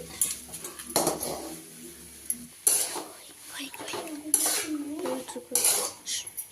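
A crumbly mixture stirred in a pan with a metal utensil, giving intermittent scraping and clanking strokes in a few bursts, close by, with light sizzling between them.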